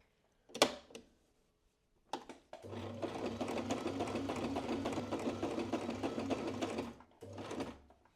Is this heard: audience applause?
no